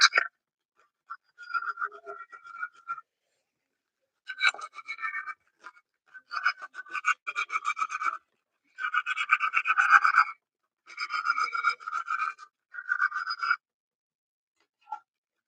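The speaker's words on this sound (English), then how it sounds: "Sand down the surface." The surface of a puzzle clock used for speedcubing is sanded by hand, with scratchy rubbing strokes that come in irregular bursts separated by silent gaps, close and fairly loud.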